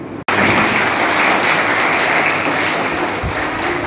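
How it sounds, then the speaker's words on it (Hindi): An audience at a political speech bursts into loud, sustained clapping after a short pause. The dense, even applause holds steady for several seconds with no break. "ये ताली बजाने से एक बहुत बड़ा फायदा है"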